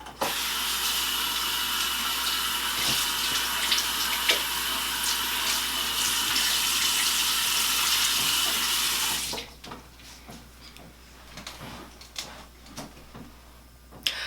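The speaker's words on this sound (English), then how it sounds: "take a washcloth and run it under hot water for like a minute or two." Hot tap water runs steadily from a faucet over a washcloth in a sink, a loud continuous splash for about nine seconds before it shuts off, leaving faint scattered handling clicks and drips.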